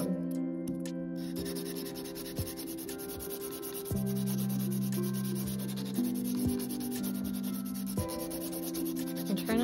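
A nail file is run lightly back and forth across acrylic nails, a steady close rasping scrape with even repeated strokes over a faint tonal background hum.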